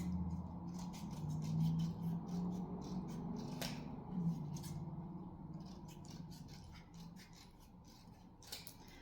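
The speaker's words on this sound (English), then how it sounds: "so I got to trim this one down to about the same as this one." Scissors snip and trim a small piece for a mini snowman snow globe, with quiet, repeated close-up cutting and rubbing sounds in an irregular rhythm against a faint background hum.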